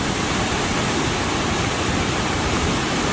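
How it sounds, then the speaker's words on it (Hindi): The Beas River, swollen in flood during heavy rain near Kullu Manali, roars as a dense, continuous rush of churning water, loud and steady with no pauses. "ब्यास नदी का उफान देखिए भाई"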